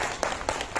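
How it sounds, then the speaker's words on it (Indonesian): An audience gives brief applause for a speaker at a talk, a short burst of scattered clapping from several people, moderately loud and close, with a few distinct claps standing out. "Tepuk tangan untuk Pak Andi."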